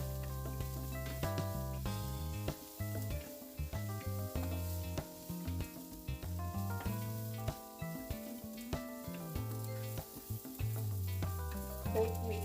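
Carrots sauté in a pan for quinoa upma with a steady, close sizzle and frying hiss under occasional stirring scrapes, while background music with tonal melody plays throughout.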